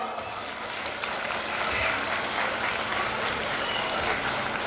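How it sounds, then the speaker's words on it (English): Children applauding at a school sports event, a sustained, even patter of many small hands clapping together, moderately loud and filling the space without a break. "Children, please give ma'am a big round of applause."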